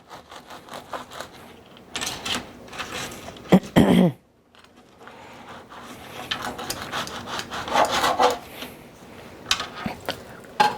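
A knife saws through a loaf of bread in repeated rasping back-and-forth strokes, close and uneven in loudness, with a few brief pauses between cuts.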